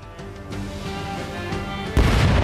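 Cannon fire from a pirate ship battle in a turn-based tactical video game, a rumbling run of booming shots capped by a louder, sharper blast near the end, with no talk.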